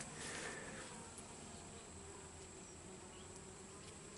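Honeybees humming inside a newly split hive, a faint, steady, close buzzing drone that holds throughout with no talk.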